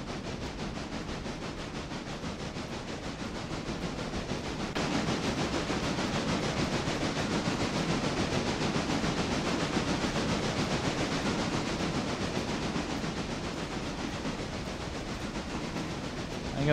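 A freight train on a short railroad line rolls along the tracks while picking up empty cars, producing a steady, broadband rumble and rail noise that grows somewhat louder partway through and holds close and continuous, with no talk.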